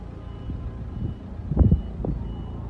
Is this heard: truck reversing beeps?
yes